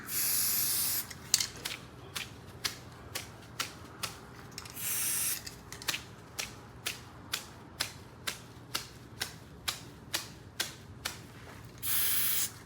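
A rapid series of short, sharp spritzes from a spray bottle onto a paintbrush, evenly spaced and close, with a few longer sprays at the start and end.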